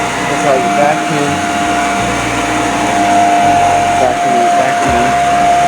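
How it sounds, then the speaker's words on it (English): A vacuum cleaner runs steadily over carpet, loud and close, with a constant motor whine and shifting low rumble as it is pushed back and forth. "That's how you vacuum."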